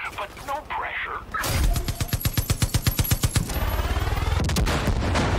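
A mounted turret fires in the video game Far Cry 5, loosing a long rapid burst of heavy machine-gun shots, loud and close, that breaks into a rattling tail as game voices and effects fade in and out.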